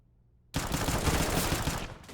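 Automatic gunfire in the Counter-Strike video game on the Mirage map, a sudden loud, sustained burst of shots that starts after half a second of near silence and fades slightly at the end.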